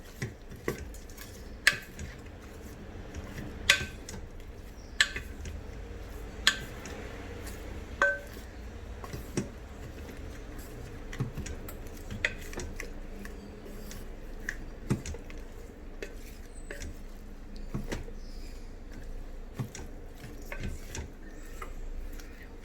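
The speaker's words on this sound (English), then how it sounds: "Mix it well." Vegetable biryani is stirred in a rice cooker pot, with a spoon clinking and scraping against the pot in an irregular rhythm of sharp taps over a low background hum.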